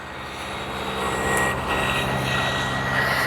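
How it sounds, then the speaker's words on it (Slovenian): A motorcycle passing by outside makes a steady, fairly loud engine drone that swells slightly and holds, heard alone with no talking. "čakajte, motor gre."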